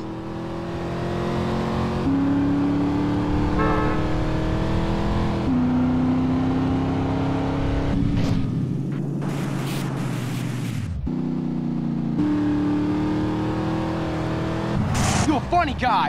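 A car in a video game drives and revs hard, engine tones climbing and dropping through repeated gear shifts, with a noisy burst like tire squeal or a crash midway, while voices talk over it.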